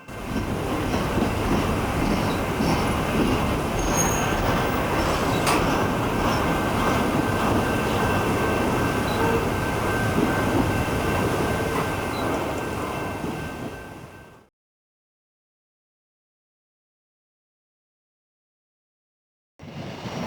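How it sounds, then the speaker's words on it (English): A freight train rumbles past steadily through a city with rattling wagons and a faint squeal, loud and continuous for most of the stretch before cutting to silence. "these people bringing these trains through our city"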